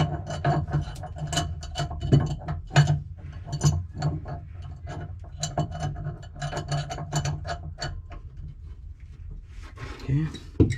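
Spanners clank and ratchet against a metal propane pipe fitting as it is tightened, with irregular close metallic knocks and scraping, and some low voice in the background.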